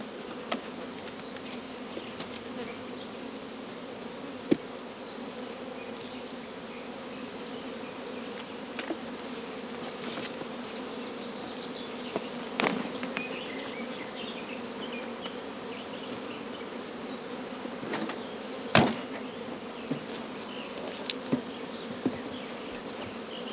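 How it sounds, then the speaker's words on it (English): A dense, steady hum of many honeybees buzzing around nearby, with occasional louder bees passing close. "All flying bees will return to the familiar original hive entrance"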